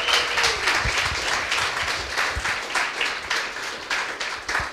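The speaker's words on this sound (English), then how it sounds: "Again, a round of applause." An audience at a coding bootcamp demo day in Lisbon gives a sustained round of applause, dense and steady clapping that continues throughout, with no talking.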